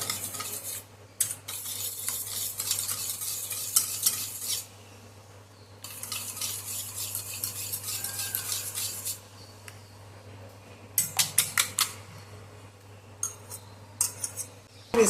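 A utensil repeatedly scrapes and stirs a Malaysian kuih mixture in a pan on the stove as it cooks down to a creamy consistency, in steady bursts with short pauses and a few sharp clinks toward the end.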